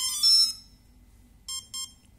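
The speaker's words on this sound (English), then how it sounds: "After those beeps, you should now get a musical tone." Electronic beeps from a HobbyKing ESC: a long bright tone burst, then a pause, then two short beeps in quick succession, clear and close with no talking.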